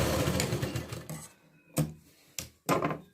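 Sewing machine running double stitching on a blouse, a quiet close whirring run that stops, followed by a few short separate bursts of stitching.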